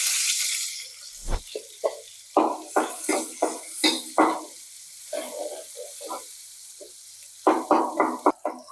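Onions sizzle in hot oil for a Bengali egg korma, with a series of stirring strokes that each bring a loud hiss and scrape, close and rhythmic, and pauses between them. No one speaks.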